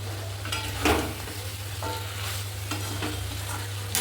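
Chicken curry being stirred and sautéed in hot oil, a steady sizzle with scraping spoon strokes against the pan at an even, close pace, with a low constant hum beneath.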